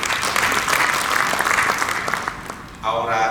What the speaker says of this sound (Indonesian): Tepuk tangan buat Pak Melki.